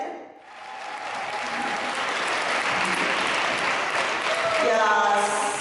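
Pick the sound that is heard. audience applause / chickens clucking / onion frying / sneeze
audience applause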